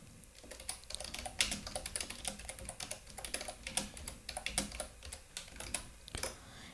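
Rapid, uneven typing on a computer keyboard while writing Python code, close and fairly quiet, with clusters of key clicks and brief pauses and no talking.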